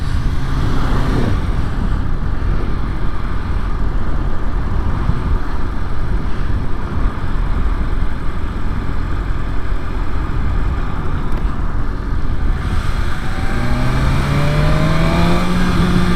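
A 2023 BMW S1000RR sportbike with carbon wheels accelerates at about half throttle, its loud engine roaring steadily and close by, with the pitch climbing near the end.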